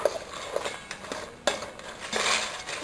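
A spoon stirs a crisp snack mixture, diamond cuts, in a pan, giving scattered scraping clinks and light metallic taps at close range with no voices.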